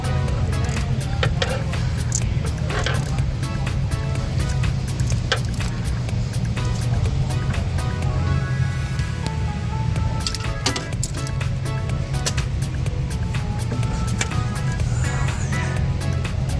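A Ford F-150 with a 2.7L EcoBoost engine idles steadily after a new serpentine belt is fitted, its low even drone accompanied by scattered clicks and light tapping noises.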